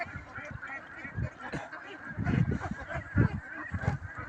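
A large flock of about 1500 ducks on a duck farm, honking and quacking continuously at close range, with louder overlapping bursts rising and falling.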